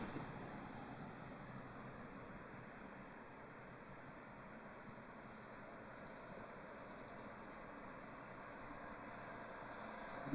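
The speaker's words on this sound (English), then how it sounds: "plenty of trucks roaring through" Heavy trucks rumble through a small country town, a broad continuous roar of engines and tyres that stays fairly steady and moderately distant throughout, with no talk.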